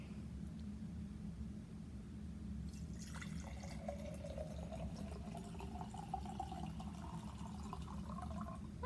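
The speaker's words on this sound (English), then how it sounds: "So the first thing I'm going to do is pour water into the mason jar." Water poured from a pitcher into a mason jar makes a close, gentle splashing and trickling that starts a few seconds in and continues steadily to the end over a low background hum.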